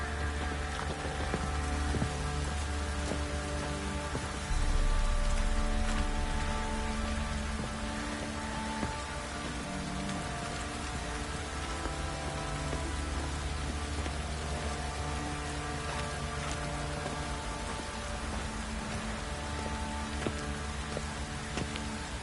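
Heavy rain pouring down in Witcher 3 on the Isle of Mists, a constant dense hiss and patter, loud and unbroken throughout, with a low rumbling undertone.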